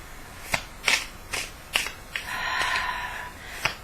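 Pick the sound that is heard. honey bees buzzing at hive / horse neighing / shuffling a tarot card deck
shuffling a tarot card deck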